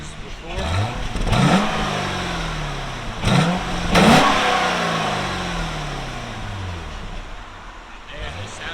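Stock-exhaust 2008 Chevy Corvette LS3 V8 revving hard in three or four sharp sweeps that rise and then fall back to a throaty idle, loud and close.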